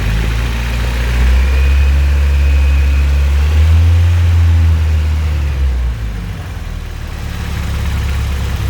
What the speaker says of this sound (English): So I'm gonna rev it just to see what it does.